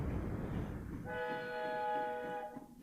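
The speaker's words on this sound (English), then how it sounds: "I still have a steam train on here." A steam train in the Transport Fever game gives a sustained multi-tone whistle that starts about a second in and holds for roughly a second and a half over a steady rumbling engine bed.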